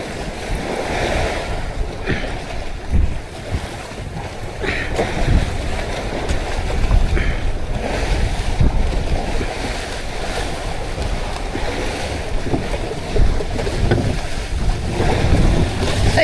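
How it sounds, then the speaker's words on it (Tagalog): Rough sea waves surge and slap around a service boat in bad weather at sea, with heavy wind buffeting the microphone in a constant loud roar. "May maalon hanay."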